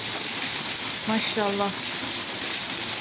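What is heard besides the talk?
heavy rain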